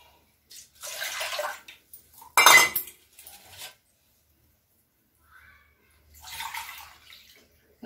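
Water is poured from a vessel into a metal pot of soaked rice while making mint biryani, a few short splashing gushes with clinks of the pot between quiet gaps.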